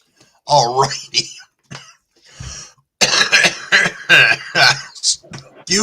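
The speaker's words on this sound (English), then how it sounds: "I am coughing my head off." Harsh, close coughing comes in several bursts, mixed with throat clearing and a voice nearby.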